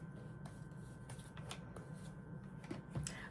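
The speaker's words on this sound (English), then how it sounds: "One more shuffle." A deck of tarot cards is shuffled close and quietly, a soft papery riffle with a few sharp slaps and flicks of cards against one another.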